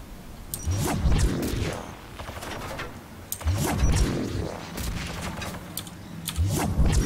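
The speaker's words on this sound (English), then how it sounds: "Although everybody's shooting down here" Gunfire in Mass Effect 3 multiplayer, with an Asari Justicar adept in play: repeated bursts of shooting and booming impacts come in clustered volleys that rise and fall throughout, loud and dense with no talk.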